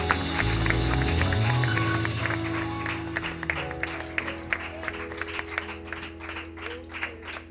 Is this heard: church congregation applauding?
yes